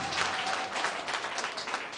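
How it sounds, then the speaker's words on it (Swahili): Church congregation applauding at a live Pentecostal service on New Year, a dense, steady wash of clapping that holds at even loudness for about two seconds with no pauses. "Pigie Bwana makofi kanisa."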